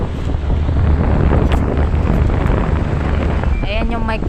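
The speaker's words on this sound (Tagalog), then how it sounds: "Lakas ng hangin." An electric fan blows strong wind straight onto the microphone, making a loud, constant low rumbling buffet throughout, with a voice briefly heard near the end.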